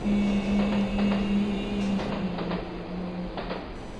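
A train rolls along steadily, a low rumbling hum with a sustained tonal drone and faint rhythmic clacks, continuous throughout with no voices.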